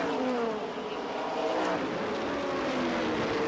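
NASCAR stock cars roar out of the turn onto the straightaway at Rockingham in the 1980 American 500, a dense, continuous engine drone with pitch sweeping as cars pass, heard at a distance without voices.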